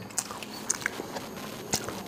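Pani puri being bitten and chewed up close, with a few crisp crunchy cracks spaced apart over a quiet background.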